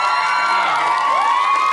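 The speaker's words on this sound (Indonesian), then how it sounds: "tepuk tangan untuk Yasamin Jasom" At the premiere of the Indonesian horror drama film Temurun, an audience loudly cheers and whoops for the cast with high-pitched shouts and some clapping, a dense, continuous crowd roar up close.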